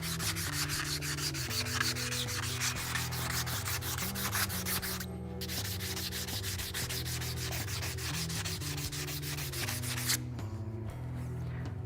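Steady rubbing and sanding against a powder-coated rear bumper part for a 2016-2022 Toyota Tacoma, clearing excess coating in continuous close strokes with a short pause midway and no talk.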